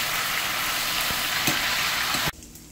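Venison pieces fry in a pan for aporreado, a loud, steady close sizzle with a few stirring knocks, then the sizzle drops away abruptly near the end.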